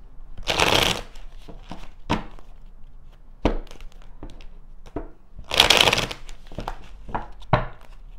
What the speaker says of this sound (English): Eight shuffles